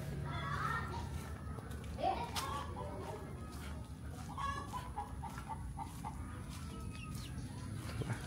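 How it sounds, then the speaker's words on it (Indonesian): Chickens cluck softly and intermittently in an Indonesian village on a morning walk, amid children's voices and general outdoor background hum. "Ada ayam-ayam."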